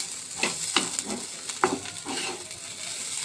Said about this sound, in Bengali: দেখছো খুব সুন্দর ঝরঝরা ভাবে কিন্তু চালটা ভাজা হয়ে গেছে।